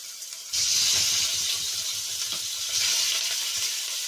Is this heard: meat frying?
yes